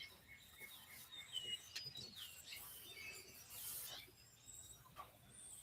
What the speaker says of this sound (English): just playing the morning video of the bird sounds